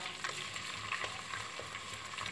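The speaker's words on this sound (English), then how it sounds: "you mix the flour with the margarine together, so you don't get lumps" Flour being stirred briskly into melted margarine in a hot pan on the stove, a steady close sizzle with scraping spoon strokes at an even pace throughout.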